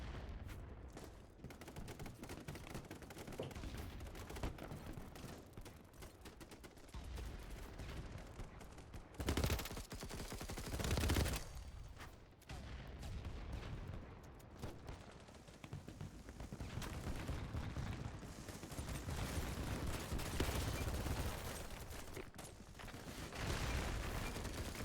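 Gunfire in the video game BattleBit, bursts of rapid automatic shots and occasional heavier booms in a dense, continuous firefight mix, loud throughout with no clear speech.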